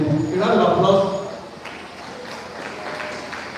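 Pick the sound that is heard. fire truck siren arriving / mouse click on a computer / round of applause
round of applause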